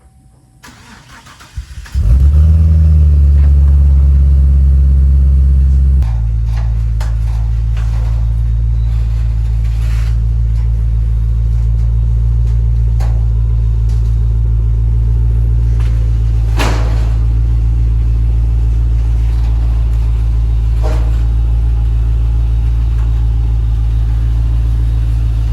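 A rough 2005 Cadillac CTS-V, bound to become a drift car, cranks and fires up on a trailer with a loud start surge. It then settles into a steady, deep, close idle with faint clicks and thumps, and no one speaks.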